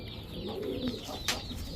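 Iranian Huma pigeons coo softly, a low throaty warble close by, followed by a short higher note over a steady background murmur.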